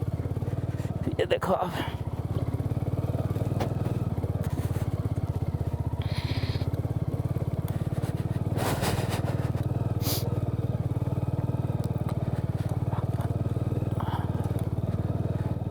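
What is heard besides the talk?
motorcycle riding on rough forest road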